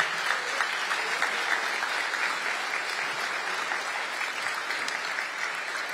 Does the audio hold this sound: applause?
yes